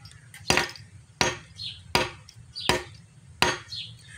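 Five sharp, loud metallic strikes land at a steady pace, each a hammer blow smashing a fake ring with glass stones, with faint crackle between hits.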